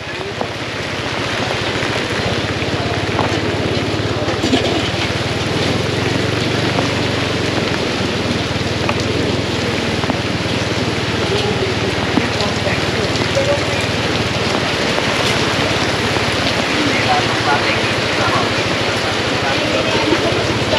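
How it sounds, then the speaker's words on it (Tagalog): Heavy rain pours down steadily at Divisoria Mall in Manila, a dense hiss of drops hitting surfaces, with faint voices in the background. "lakas ng ulan"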